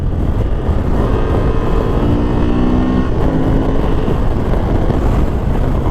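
Honda Transalp 750 motorcycle cruising at 75 mph, a loud continuous roar of wind and engine with a steady low drone throughout.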